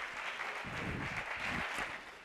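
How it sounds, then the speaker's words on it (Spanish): Applause for a presenter at a school Ingenia project event, a short steady burst of moderate clapping from a small group, fairly close and continuous without voices. "Aplauso para él."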